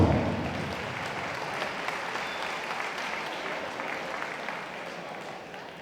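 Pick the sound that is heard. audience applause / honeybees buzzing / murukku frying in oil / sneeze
audience applause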